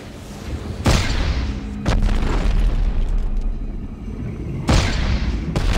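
Rocket launcher blasts in Dead Space 3, several loud booming explosions with sharp onsets and rumbling low-end tails, close and dominant, with almost no talk.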